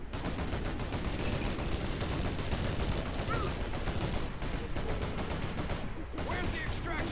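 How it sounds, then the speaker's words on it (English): Sustained rapid quad cannon gunfire from the Rise of the Reds real-time strategy game fills the battle, a dense continuous rattle with overlapping shots and explosions, loud and steady throughout. "a quad cannon took care of both of them"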